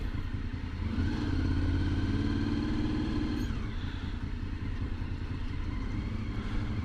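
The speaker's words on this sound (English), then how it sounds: "He heard my engine rolling under the bridge." Honda VFR 750 motorcycle engine rolling along near the rider, a steady low rumble with a brief rising tone, continuous and close.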